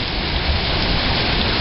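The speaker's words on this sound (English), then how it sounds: "Got rain shooting over the edge of my gutter." Heavy rain from a Kansas thunderstorm pours steadily, spilling over the edge of a house gutter in a loud, continuous broadband wash with no breaks and no voices.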